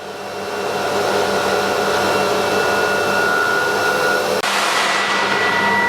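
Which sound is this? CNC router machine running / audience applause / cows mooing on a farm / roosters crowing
CNC router machine running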